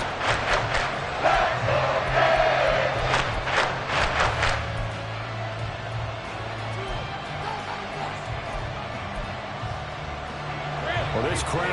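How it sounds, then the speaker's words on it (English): A loud stadium crowd roaring at an American football game with the Dolphins, a dense continuous wash of cheering and yelling with some rhythmic clapping or chanting early on, a commentator speaking over it. "this crowd making it hard to hear"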